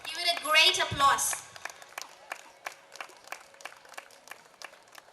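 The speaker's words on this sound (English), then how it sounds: "Give it a great applause." Sparse audience clapping at a school annual day ceremony, individual claps ringing out at an uneven rhythm in a hall after a brief burst of speech over a loudspeaker.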